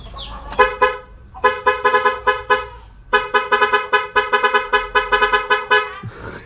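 A loud motorcycle horn on a 1989 Yamaha RS100 blares in rapid repeated bursts, a musical honking pattern with a short pause midway, then resumes in quick pulses before stopping.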